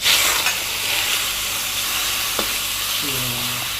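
Bacon fries in coconut oil in a pan with a dense, crackling sizzle, close and steady, with a faint tap of a utensil against the pan.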